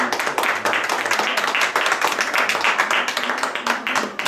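Diners at a Lyon Pakistani restaurant applaud the chef with brisk, rhythmic clapping, many individual claps close together at steady volume throughout.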